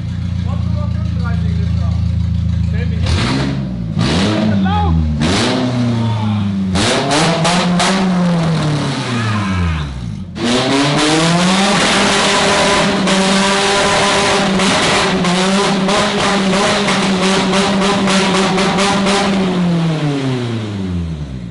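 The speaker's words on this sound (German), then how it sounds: "Alter, ist die Karre laut." A loud race car fitted with a sport camshaft revs hard in repeated rising and falling bursts, then settles into a lumpy, choppy idle and revs again, very close; voices talk over the engine.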